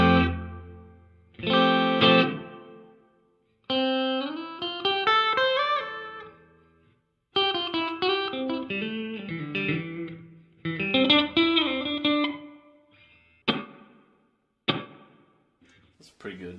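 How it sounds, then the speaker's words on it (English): Electric guitar played through a Donner reverb and delay pedal with the decay set halfway, strummed chords and picked single notes ringing out with a moderate reverb tail, each phrase separated by short pauses. "That's pretty good reverb."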